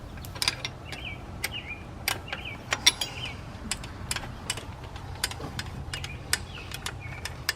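A 12 mm wrench loosening the long alternator bolt on a Subaru 2.5L engine, a quick series of faint ratcheting clicks and metallic ticks, close but quiet.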